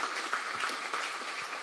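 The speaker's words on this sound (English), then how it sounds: "let's give everybody a round of applause for wanting to serve" Steady applause from an audience at a Galveston city council candidate forum, dense continuous clapping held at an even level, close and fairly loud with no talking over it.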